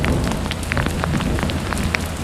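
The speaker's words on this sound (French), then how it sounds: "Et il y a de la grêle." Hail falling in the Loire gorges, a dense, loud, continuous patter of icy pellets striking surfaces close by, with scattered sharper individual hits throughout.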